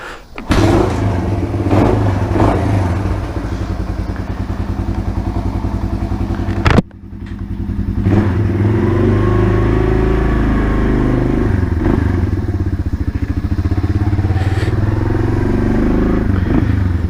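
A 1978 Kawasaki KL 250 motorcycle, freshly rebuilt, starts up with a brief gap after a few seconds, then its engine runs steadily and loudly up close, revving and pulling away as it is ridden.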